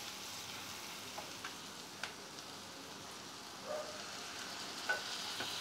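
Medium-sized tomato's worth of paste frying with roasted spices and coriander powder in a pan over a medium-high flame, a soft steady sizzle with a few faint pops and stirring scrapes.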